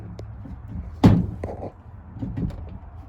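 Door of a Chevrolet Squarebody pickup swinging shut on a repaired, formerly rusted hinge, heard as one solid thud partway through, with smaller rattles and clunks after it over a low background rumble.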